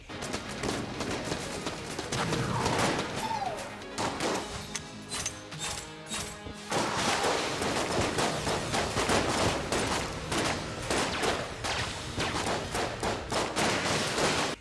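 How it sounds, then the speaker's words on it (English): Weapons firing and explosions in the video game Enter the Gungeon, a dense, loud, continuous barrage of rapid gunfire bursts and blasts layered over game music, with a brief lull midway. "Weapons firing and explosions sound and feel great, even in the context of the retro aesthetic."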